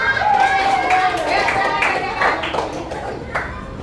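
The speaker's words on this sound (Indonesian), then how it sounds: "Oh, harimau, kelompok harimau, tepuk tangan dulu." A class in a computational-thinking lesson claps for the tiger group: scattered, uneven hand claps mixed with chattering voices and a teacher talking, fairly close.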